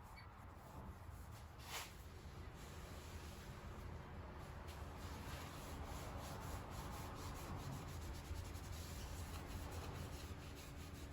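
A cloth wipes excess wood stain off timber for a plant stand, making a continuous soft rubbing and scrubbing sound, close and steady, with a brief knock early on.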